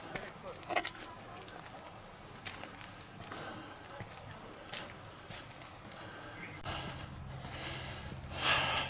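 Heavy, gasping breaths from someone on a bushwalk in the Australian bush, rising and falling close by over a steady outdoor background with occasional rustles, growing louder near the end.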